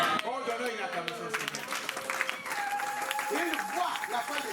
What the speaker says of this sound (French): Oh, donnons une acclamation.